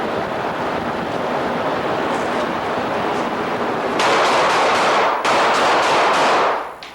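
Bursts of rapid gunfire during a room-clearing drill, loud cracks stacked in quick succession over steady roaring wind-like noise, ending abruptly.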